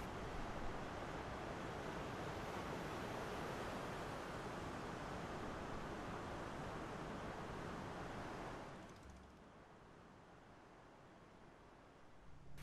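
Pacific Ocean waves heard from a ship at sea, a broad, steady roar of surf and rushing water mixed with wind noise, easing off toward the end.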